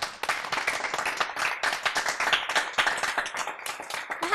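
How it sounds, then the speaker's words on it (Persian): An audience at a children's and teens' celebration of the Prophet's birthday claps together, a dense fast patter of many hands, loud and sustained, with no talk over it. "خب تشویق کنین دوستای ما را"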